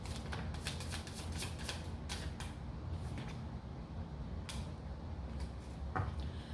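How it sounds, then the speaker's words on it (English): A deck of tarot cards is shuffled by hand in a quiet room, making a series of soft, quick riffling bursts and papery flicks that come in uneven clusters, close and fairly faint. "I want to see if I didn't mess up on some shuffling the cards"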